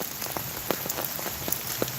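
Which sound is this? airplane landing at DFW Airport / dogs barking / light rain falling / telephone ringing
light rain falling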